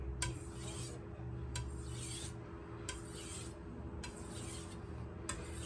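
A kitchen knife is drawn across a 5000 grit whetstone in repeated rasping strokes, about five evenly spaced passes, close and quiet with soft scraping between strokes.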